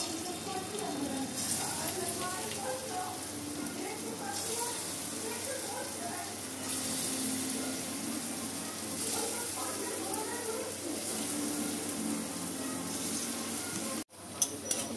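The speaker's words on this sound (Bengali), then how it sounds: "এবার আমি ছোট ছোট করে ভাজবো।" Small multigrain lentil fritters (dal bora) frying in a hot wok of oil, a steady bubbling sizzle with scattered crackles running throughout, cut off abruptly near the end.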